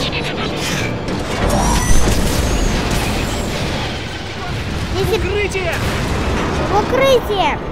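Rumbling booms and crashes from bombs blowing up in the Transformers: War for Cybertron video game, a dense, continuous roar with scattered mechanical whooshes, and a voice talks over it throughout.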